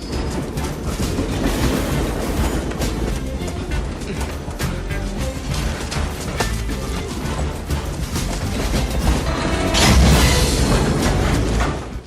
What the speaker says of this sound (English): People and very slow-moving freight trains.